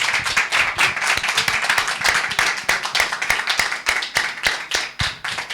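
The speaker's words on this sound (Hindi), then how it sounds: "एक बार अच्छी ताली बजाकर परमेश्वर को" A congregation at a Bible college testimony gathering claps loudly and close by, with sharp, dense, slightly uneven claps continuing without pause for several seconds.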